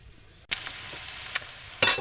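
Food frying in a pan on the stove, ahead of diced steak and eggs, crackles and hisses steadily after a sudden start, with a few sharper pops and a louder burst of sizzle near the end.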